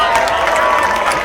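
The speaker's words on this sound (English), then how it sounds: "Let's give a round of applause for the support band." Concert crowd at a punk rock show applauding and cheering for the support band, dense steady clapping close and loud.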